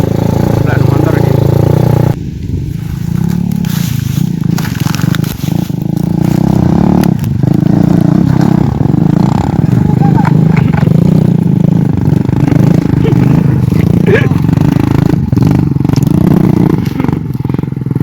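A motorcycle engine runs close and loud the whole time, with revs rising and falling, rattling clatter and scraping, and voices faintly mixed in.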